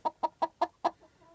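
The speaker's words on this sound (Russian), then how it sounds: "Курица села на яички" A hen sitting on eggs clucks five times in a quick, even rhythm, close and clear, then trails off into a soft murmur.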